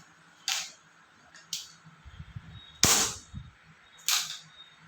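SDB Gennex Pro air rifle being fired: a few short, sharp snaps and clicks, then one louder crack with a low thump, set against a quiet background.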